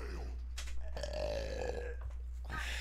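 A single drawn-out, gurgling burp sounds close to the mic and lasts more than a second, layered over a steady low hum and game sounds.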